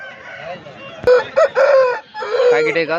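An Aseel rooster of about 4 kilograms crows loudly and close by at a poultry market, a drawn-out call followed by a second crow, with some clucking around it.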